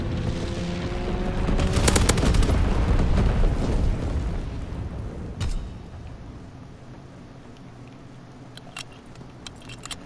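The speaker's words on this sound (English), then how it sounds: "Strafing run inbound." An aircraft strafing run in a WW2 video game: a dense, roaring burst of rapid gunfire and blasts that peaks early, then fades into a distant rumble with a few scattered sharp cracks.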